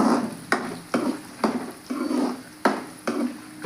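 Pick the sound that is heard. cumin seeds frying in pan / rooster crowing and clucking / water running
cumin seeds frying in pan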